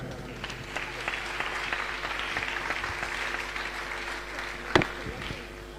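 A large audience claps in a sustained round of applause at a school's 80th anniversary celebration in Ghana, with a dense steady patter and one sharper louder burst near the end.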